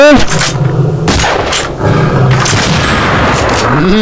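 Rapid bursts of gunfire in the Counter-Strike Nexon Zombie video game, Zombie Evolution mode, with loud sharp shots and booms repeating through the whole stretch and a voice briefly heard under them.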